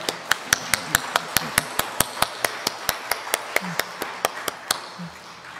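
Applause at an academic conference thanking three professors, heard as a steady run of about twenty sharp, evenly spaced claps close by over a softer crowd background, fading slightly at the end.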